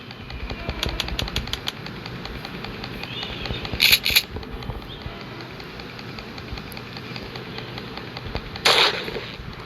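Two gunshots from the Granny Chapter Two video game ring out a few seconds apart over a steady game background hum, fairly close and sharp with no talk.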